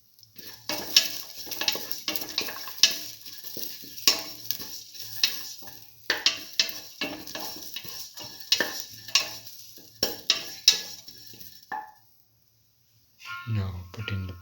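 Green chili sautéing in a pan for a cucumber and black lentil rice dish, with close, steady sizzling and repeated scraping stirs over about twelve seconds, then a brief pause and a final burst of stirring.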